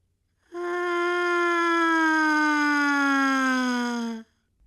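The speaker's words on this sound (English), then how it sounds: "Listen as Chelsea demonstrates a mouthpiece siren for us" A trumpet mouthpiece buzzed on its own, sliding steadily downward in pitch like a siren in one smooth, sustained tone of about four seconds, bright and close with no talking.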